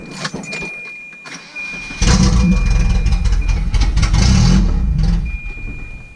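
A car engine with a newly installed B230 camshaft cranks and catches, then settles into a loud, rough, lumpy idle close by, with a faint high whine running throughout.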